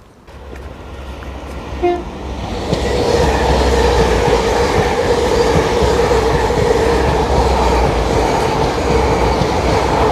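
A train rolls past close by at Starcross, Devon, its broad rumble and rattle building after a brief horn-like tone, then holding steady and loud.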